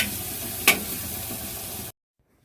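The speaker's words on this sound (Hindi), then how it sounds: "तो छौंक देती हूँ मेरी प्यारी फैमिली दाल" Dal being tempered, with spices sizzling in a hot pan: a steady loud frying hiss with one sharp crackling burst partway through, then it cuts off abruptly.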